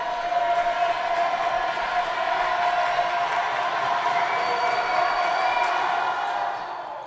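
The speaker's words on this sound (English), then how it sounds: "the crowd goes crazy for a missed free throw" A high school basketball gym crowd roars and cheers steadily after a missed free throw, a dense, loud wall of voices that holds throughout before easing slightly at the end.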